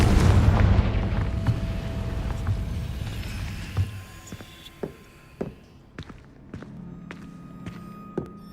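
A Confringo fire spell explodes in Hogwarts Legacy, a heavy boom that fades into a rumbling tail, followed by scattered thuds and small pops.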